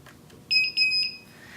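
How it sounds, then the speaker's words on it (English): An S02 alarm system's keypad gives a double electronic beep confirming a new password: two short, high-pitched tones in quick succession, followed by a brief longer tone, against quiet background. "The double beep lets you know the system has accepted the new password"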